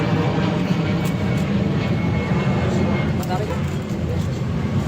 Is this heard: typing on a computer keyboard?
no